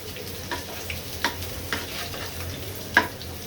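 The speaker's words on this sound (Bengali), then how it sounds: "আমার পেঁয়াজটা রসুনটা মোটামুটি ভাজা হয়ে গিয়েছে" Onion and garlic fry with dried red chilies and bay leaf in a steady sizzle in the pan, punctuated by a few sharp clinks of a spoon stirring.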